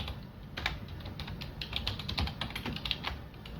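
Someone types on a computer keyboard with quiet, rapid key taps in an uneven rhythm, close and steady for a few seconds.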